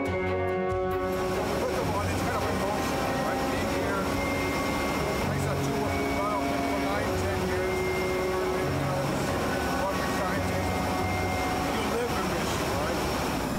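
Steady, loud cabin drone inside an airplane flying about 1,500 feet up, a continuous engine hum with tonal whines filling the whole stretch, with a voice talking over it.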